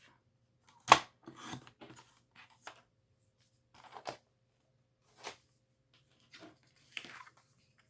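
Scissors snip through paper scraps for card making, a few separate quiet cuts with soft rustling in between in a still room.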